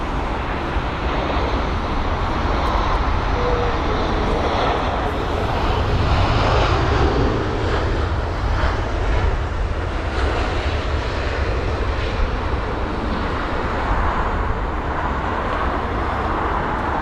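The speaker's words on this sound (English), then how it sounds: "So the next jet's the A319 reg Golf Echo Uniform Papa Golf. That is right in the frame now." A British Airways Airbus A319 jet arriving from Milan on a windy day at London Heathrow, a loud, steady engine roar filling the whole stretch, swelling slightly midway with no talk.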